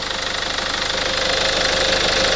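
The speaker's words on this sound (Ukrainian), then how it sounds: "Робота двигуна." A Peugeot Partner engine runs at a steady idle during repair, a close rhythmic mechanical chug with a slight knocking pulse and no voices.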